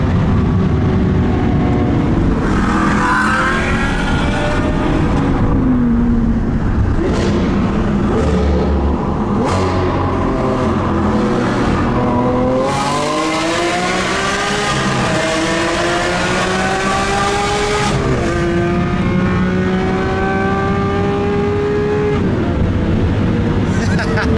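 A supercar engine roars loudly and continuously, climbing through revs on the limiter and shifting gears on a de-restricted autobahn, with a voice talking over it now and then.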